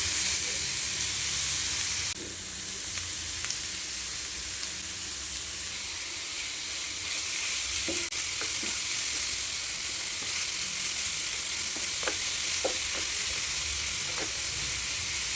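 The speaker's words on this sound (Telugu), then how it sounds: "బాగా అయితే నెయ్యిలో ఫ్రై చేసుకోవాలండి" Sabudana sizzling as it fries in ghee in a pan on low heat, a steady close hiss with occasional small pops and crackles, no one talking.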